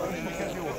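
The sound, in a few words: sheep bleating at a livestock market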